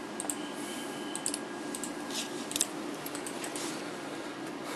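Quiet, quick clicks of keys being typed on a wireless keyboard paired with a tablet come in small irregular bursts over a faint steady hiss.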